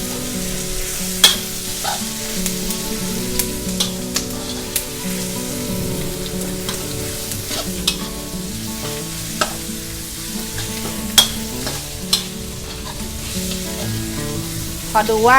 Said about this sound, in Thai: ใส่น้ำพริกเผาลงได้เลยค่ะ วันนี้เราก็ใช้ประมาณ 2 ช้อนโต๊ะนะคะ ผัดให้เข้ากันเลยค่ะ